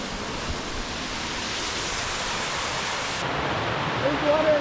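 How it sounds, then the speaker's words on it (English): Steady, dense rushing of a waterfall and water flowing beneath rock inside a cave, a constant broadband roar that swells slightly near the end, with no clear voices. "There's water going under the rock."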